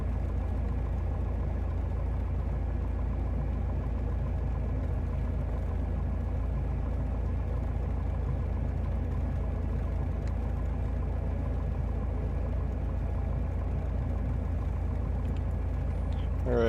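A small training airplane's engine drones steadily at low power while taxiing toward the runway on a first solo flight, a constant close rumble heard through the cockpit, with faint intermittent voices over it.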